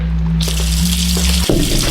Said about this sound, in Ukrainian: Йдемо виключати воду під краном. Візьму одразу водою.